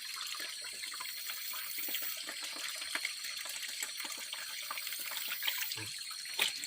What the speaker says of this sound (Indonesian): timba ini penuh airnya, nanti akan saya coba masukkan ke dalam jerigen.